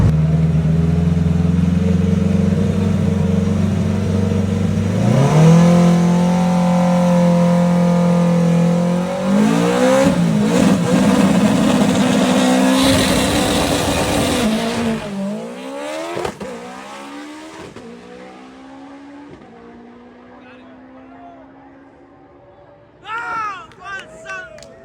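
A drag racing car launches down the strip with a loud, rising engine roar that climbs through several shifts, then fades into the distance, with voices and crowd noise around it.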